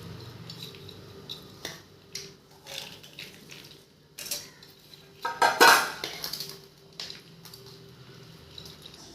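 Cooked rice being stirred together with a spiced tempering for lemon rice, giving scattered scrapes and clinks of a spoon on a pot, with one louder burst of metal clatter midway and quiet gaps between strokes.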